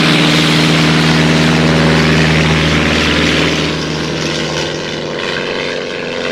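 Cartoon fighter plane's propeller engine roars at full throttle, a loud, dense droning buzz close by that eases slightly in level toward the end, with no voices over it.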